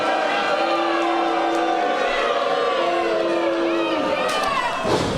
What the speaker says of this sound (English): listen to this crowd getting behind Serza